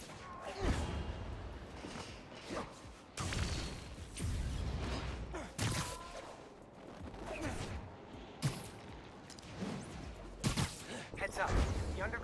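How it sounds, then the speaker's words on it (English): Scattered bursts of gunfire and crashing impacts erupt in Spider-Man: Miles Morales, coming in irregular clusters amid whooshing movement, with a voice speaking between the shots. "Shots near you."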